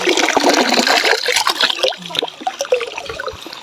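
Free-running water gushes and splashes loudly at a countryside spot in Antipolo, then thins to a lighter trickle with scattered drips.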